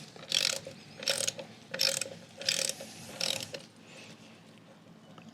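A socket ratchet works a plug on the primary cover of a 2018 or later Harley-Davidson Softail Fat Bob, making five close, crisp bursts of clicking spaced under a second apart before the clicking fades out.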